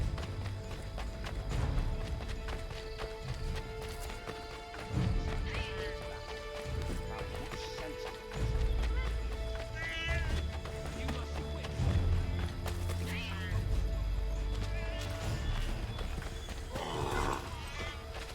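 Horse hooves in Assassin's Creed 3 clatter in quick galloping rhythm, close and fairly loud, with occasional whinnies and brief voices mixed in over a low rumbling ambience.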